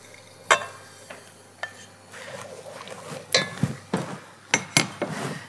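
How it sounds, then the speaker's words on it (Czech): Ground poppy seeds poured into nearly boiling milk in a pot, then stirred with a spoon: a soft pouring hiss followed by several sharp clinks and scrapes of the spoon against the pot, close and fairly quiet. "Tak mléko už se téměř vaří. Teď přisypu mletý mák."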